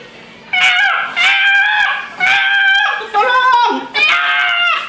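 A voice imitates a chicken caught in a fence, five loud squealing, strained cries in quick succession with brief gaps between them, close and alone.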